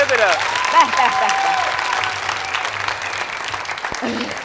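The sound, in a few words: studio audience applause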